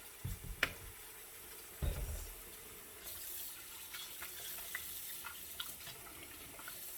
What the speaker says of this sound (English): I'm gonna put some fresh clean water in it